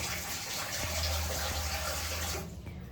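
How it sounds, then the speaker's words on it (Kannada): Water pours steadily into a metal pan for making homemade soap, with a gushing splash, then stops near the end. "ಬಾಣಲಿ ಸ್ವಲ್ಪ ನೀರು ಹಾಕೊಳ್ಳೋಣ"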